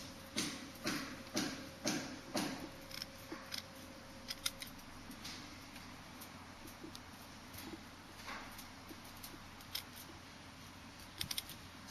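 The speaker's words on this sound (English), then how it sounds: "I cut this aluminium piece at random" Snips cut through a piece of aluminium sheet, a series of sharp crisp clips in quick succession at first, then sparser clicks and small metallic handling sounds, close and alone.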